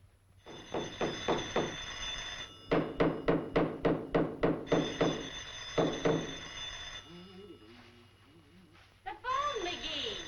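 A telephone rings in repeated rapid bursts of bell strikes, loud and close, with a pause between groups, and voices begin speaking toward the end.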